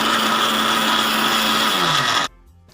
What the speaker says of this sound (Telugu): ఈ రవ్వ చల్లారిపోయిన రవ్వని మిక్సీ జార్లో వేసుకొని పౌడర్ కింద మిక్సీ పట్టుకోవాలి